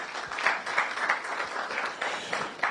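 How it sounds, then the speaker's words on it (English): Audience applause for newly crowned NSMQ champions at a school event, a steady wash of many hands clapping at moderate distance, rising and dipping slightly in waves without a break. "Please give them a round of applause."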